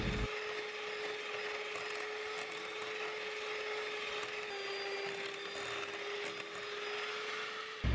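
An electric mixer beats chocolate cream cheese frosting with added sugar, giving a steady high motor whine with faint scraping in the bowl, constant and alone from start to finish.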